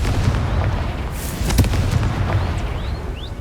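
Confringo fire spell explosion in the video game Hogwarts Legacy, a loud sustained roaring blast with crackling bursts and rumbling low end, no talk.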